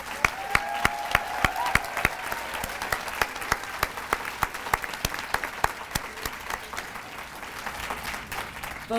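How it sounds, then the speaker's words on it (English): An audience claps for seven finalists at a charity event, a dense round of applause with sharp individual claps standing out, steady and fairly close for the whole stretch. "Let's give a warm round of applause to our 7 finalists."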